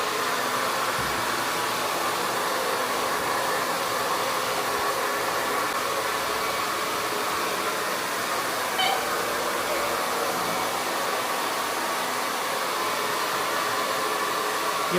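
A hair dryer blows on hair at close range, a loud steady whooshing roar that runs unbroken through the whole stretch with no clear talk over it.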